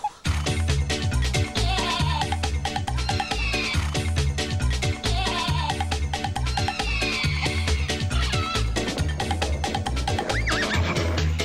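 A horse neighs and whinnies in a 1994 children's TV show, the calls rising over loud, driving rhythmic music that runs throughout.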